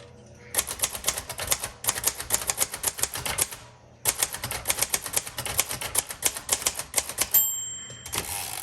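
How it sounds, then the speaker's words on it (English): A 1957 Royal Quiet Deluxe manual typewriter in tan crinkle finish types in quick bursts of sharp key clacks, pausing briefly, then more rapid typing ending with a bell ding and a carriage return. "this is another amazing typewriter."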